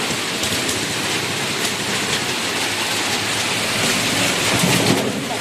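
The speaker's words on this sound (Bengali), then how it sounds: "আর দেখো কি বৃষ্টি," Heavy monsoon rain pours down around a battery-powered rickshaw, a dense, steady roar of falling water with a low rumble underneath, constant and close throughout with no voices.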